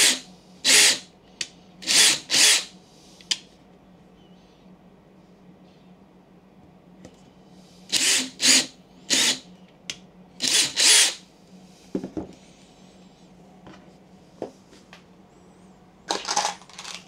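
Power drill driving plain M4 screws into a new concealed-mount door hinge during a light renovation, heard as repeated short whirring bursts in clusters with pauses between, fairly close and loud, with no talk.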